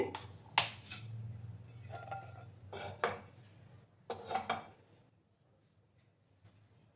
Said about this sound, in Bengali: একটা প্যান আমি এবার বসিয়ে দেব প্রথমে।